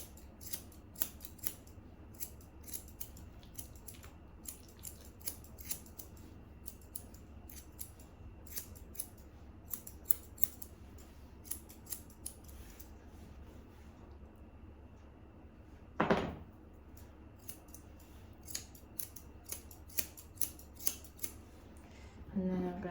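Scissors snip repeatedly, close and quiet, cutting off the bottom of an item, with one louder sharp burst partway through.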